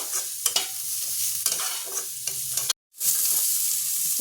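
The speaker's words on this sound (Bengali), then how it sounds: "তো এবার আমি পেঁয়াজ আর ক্যাপসিকামটা একটু ভাজা ভাজা করে নেবো" Chopped onion and capsicum sizzle in a hot pan as a spatula stirs them, giving steady frying crackle with scraping strokes and one brief silent gap, close and fairly loud with no talk.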